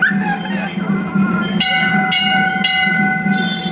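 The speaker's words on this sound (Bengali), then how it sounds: "আমিও একটু ঘন্টাটা বাজিয়ে নিলাম" A bell rings repeatedly, several sharp metallic strikes with long ringing tones layered over a busy hum, close and loud.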